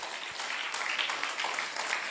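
Audience applause at a live program in Belgaum, a steady dense wash of many hands clapping at once, fairly loud and continuous for the whole stretch.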